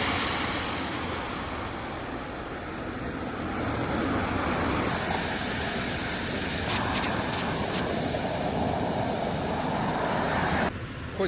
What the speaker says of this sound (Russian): Хоть сегодня и большие волны,